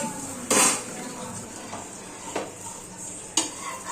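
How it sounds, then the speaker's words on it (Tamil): Dried fish cooking in a pan with onion, tomato, green chilli, curry leaves and chilli powder, with a loud metal clatter of utensil against pan near the start and lighter knocks and stirring scrapes over a faint sizzle. "ஸோ இப்போ இதில் வந்து கருவாடை போட்டாச்சு."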